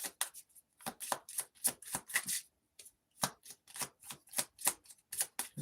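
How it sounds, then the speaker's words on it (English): A small deck of tarot cards is shuffled by hand in repeated quick bursts of riffling and slapping, close and crisp, with short pauses between shuffles and no talking. "There's not many cards in this deck. There we go. So sometimes it's hard to shuffle."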